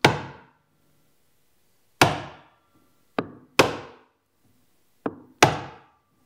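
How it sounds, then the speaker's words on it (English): Six sharp chisel strikes chopping a mortise in a board held by a holdfast on a viseless workbench, each a crisp woody knock with a short decay, spaced irregularly in quiet. "And then we would chop out our mortise."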